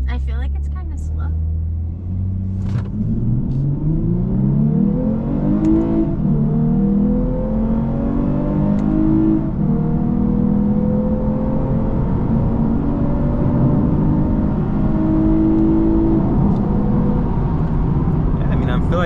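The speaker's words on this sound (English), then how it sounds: "We got all-wheel drive here. Let's see what the 0 to 60 is like." A 2023 Lexus IS 350 F Sport AWD accelerates hard from 0 to 60, the engine note rising steadily through the revs with a shift, heard from inside the cabin as a loud, continuous drone.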